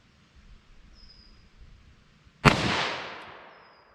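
A single .357 Magnum gunshot fired with an Inceptor ARX round cracks loud and close, and its echo decays over about a second after a quiet outdoor lead-in.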